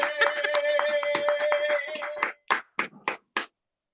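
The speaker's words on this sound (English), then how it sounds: "Another round of applause for Gino." Applause from a comedy show audience for a comedian, dense clapping that thins into a few scattered last claps, with a tonal voice or hum lingering under the first half.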